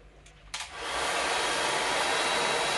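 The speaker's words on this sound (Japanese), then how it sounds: "前からドライヤー風当てて、" A hair dryer switches on with a click and ramps up into a loud, steady close-up rush of air, used to style short hair into a center part.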